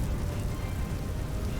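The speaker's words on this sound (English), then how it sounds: "it's raining, isn't it?" Steady rain in the video game Vintage Story, a dense continuous hiss of falling drops at constant moderate loudness with no pauses, heard alone without any talking.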